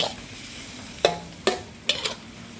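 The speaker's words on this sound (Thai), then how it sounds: "ผัดให้แห้งจักหน่อยเนาะเพื่อนเผัดให้แห้งสักหน่อย" Mushrooms and egg stir-fried in a pan until dry, a low continuous sizzle broken by four sharp spatula scrapes and knocks, no voices.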